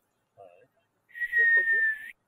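A child whistles a high, sustained note in Turkish whistled language, held for about a second and fairly close, after a brief fainter tone.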